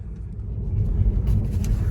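A Tesla Model 3 driving on the road, giving a steady low rumble of tyres and road noise with faint higher whooshes, heard from inside, no voices.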